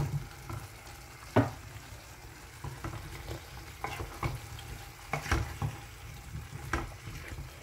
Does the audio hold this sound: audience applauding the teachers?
no